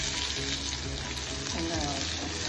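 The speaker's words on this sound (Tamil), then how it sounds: "உளுந்து வறுபட்டா இந்த அளவுக்கு வறுபட்டோன்னு போடும்" Urad dal fries in oil in a pan for Thanjavur-style tomato chutney. A steady, dense sizzle runs close and continuous throughout.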